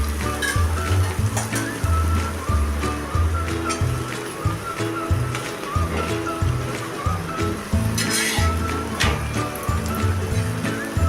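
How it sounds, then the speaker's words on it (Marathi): Mashed potato fries with onion-garlic chutney and spices in a pan for a potato curry, a loud, steady sizzle with rhythmic stirring scrapes close by. "बटाटा पण आपण आता हा थोडा वेळ असा मॅश केलेला परतून घेऊया"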